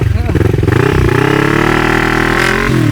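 A Kawasaki ER6N motorcycle engine revs hard nearby, its pitch climbing and holding in a loud, raspy whine.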